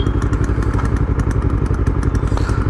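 A modified Yamaha R3 with flash-tuned ECU, Ohlins suspension and Brembo parts runs its engine up close, a loud, steady, rapid pulsing thrum with a mechanical clatter and no talking.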